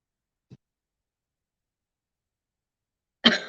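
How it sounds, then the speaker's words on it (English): A person coughs, one faint short catch followed after a long silence by a sharp, louder cough burst close to the microphone. "Sorry for the coughing."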